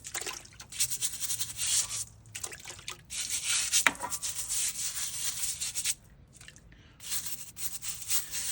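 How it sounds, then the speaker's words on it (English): Brush scrubbing and rubbing on a 1987 Ford Mustang GT brake caliper during cleaning and rust prep, with irregular bursts of bristly friction and brief pauses, close and moderately loud, no talking. "I gotta do a little bit of scrubbing"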